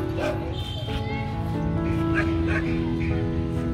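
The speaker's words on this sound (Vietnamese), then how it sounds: "Con chó của sân bóng đang bắt đầu sủa chửi." A dog at a football field barks and yips in short, sharp bursts, with whimpery, high-pitched tones mixed in, while a voice talks over it nearby.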